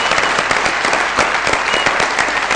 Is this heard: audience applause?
yes